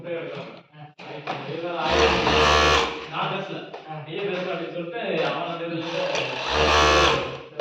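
An overlock sewing machine trims and finishes garment fabric edges in two loud whirring runs over a low motor hum, heard up close with quieter handling sounds between them.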